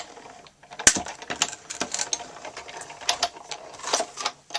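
A Big Shot die-cutting machine cranks a paper circle through its plates, giving close, uneven clicks and ratcheting mechanical rattles in irregular bursts with short pauses.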